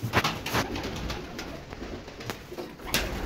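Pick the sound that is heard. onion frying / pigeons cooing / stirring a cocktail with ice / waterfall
pigeons cooing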